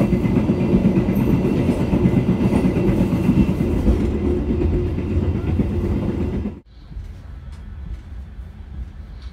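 The Tawang Alun passenger train running on rails between Banyuwangi and Malang, a loud, close, continuous rumble of wheels on track that drops abruptly to a quieter hum near the end.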